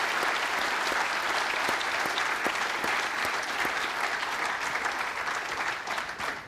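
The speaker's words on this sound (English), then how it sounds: "Please give another round of applause for the Right Honourable." A large audience claps steadily and loudly for several seconds after a speech by New Zealand Prime Minister Jacinda Ardern, a dense, even wash of hand claps that fades slightly at the end.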